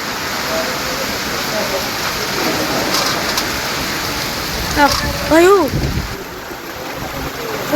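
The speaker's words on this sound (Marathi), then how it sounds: "तर पाऊस आला" Steady rain hisses throughout, with a brief voice rising over it midway before the downpour continues.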